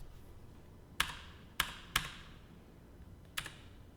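A handful of separate computer keyboard keystrokes, sharp clicky taps spaced irregularly at close range with quiet pauses between them, as someone programming hits a few keys.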